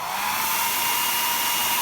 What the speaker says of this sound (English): we're going to heat our piece with our hair dryer on high